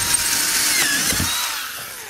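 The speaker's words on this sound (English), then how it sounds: "So what we're going to do is take a drill, appropriately sized. This is a 1/4-inch drill bit." A power drill drives a 1/4-inch bit through Kydex sheet while making a sheath for a tactical tomahawk, giving a steady, close, high-pitched whine with grinding bite that eases slightly toward the end.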